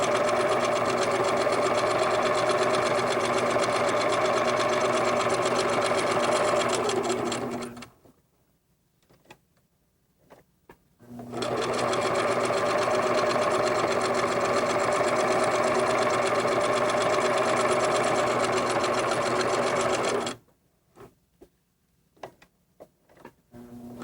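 A sewing machine stitches quilt fabric in two long, steady runs of fast mechanical whirring, each stopping abruptly for a pause of near silence with faint handling sounds before restarting, close and loud.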